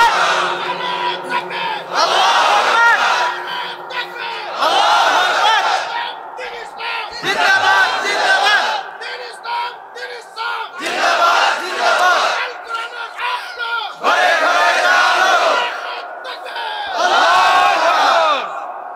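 A large crowd at an Islamic sermon gathering shouts "Allahu Akbar" in loud, unified bursts answering a takbir call, several waves of chanting separated by short pauses.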